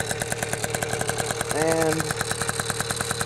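A 1980 Honda NC50 Express scooter idles with a Technigas exhaust and a Honda Spree head, its small two-stroke engine putting out a fast, even putter close by, with a brief voice over it midway.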